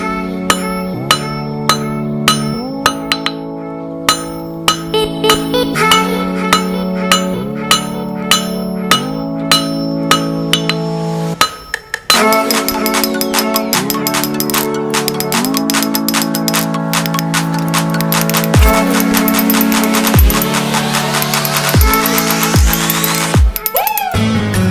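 Steel being forged on an anvil from half-inch round stock into a fork handle, with repeated ringing hammer blows in steady runs, loud and close, with brief pauses between sets.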